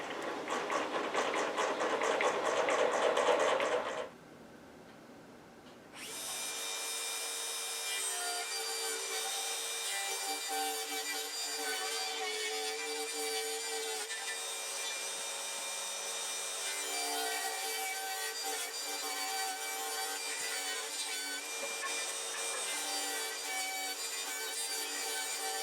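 A table saw rips lumber into 2.5 inch wide boards for a rabbit house, a steady loud whine of blade cutting wood running continuously after a brief pause, with no talk.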